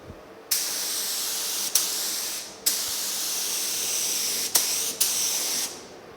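A spray gun hisses in long, loud continuous bursts while painting the underside of a 1950 Chevy truck hood, separated by short pauses between passes.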